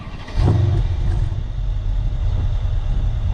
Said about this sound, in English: let me get them exhaust pipes.